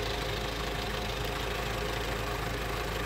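An Isuzu 4HK1 diesel engine, burning oil and smoking, runs in a steady idle with a continuous low rumble and knocking texture, close and constant with no voices.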